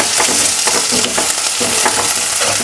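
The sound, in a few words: onions and tomato sautéing in oil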